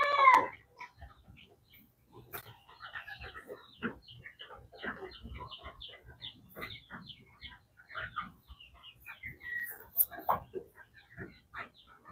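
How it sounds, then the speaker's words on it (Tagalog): Scattered clucks and short calls from chickens at moderate distance, intermittent and fairly quiet, with occasional faint background noises. "Manok natin, oh."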